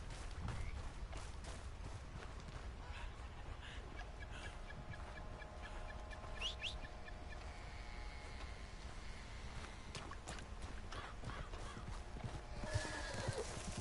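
In the Red Dead Redemption 2 video game, horse hooves clip-clop steadily up close, with a whinny partway through and faint bird calls in the background.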